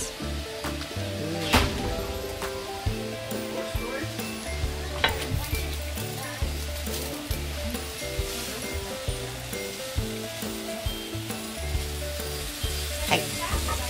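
Chicken sizzles and simmers in a pan for a chicken sauté, a constant frying crackle with repeated soft clinks and scrapes of stirring throughout, no talking.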